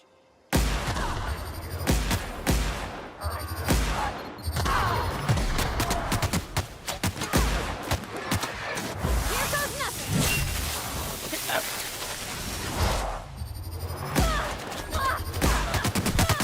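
Rapid gunshots in the video game The Outer Worlds crack out in dense, loud volleys almost without pause, mixed with impacts and whooshes, while a voice talks over the shooting.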